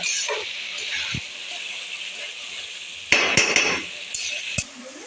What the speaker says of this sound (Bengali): তো মশলাটা বন্ধুরা একটু কষিয়ে নিলাম